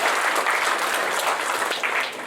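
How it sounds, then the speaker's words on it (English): A crowd at a high school orientation claps in a sustained round of applause, dense and fairly loud, tapering slightly toward the end with no talk over it. "so let's give them another round of applause"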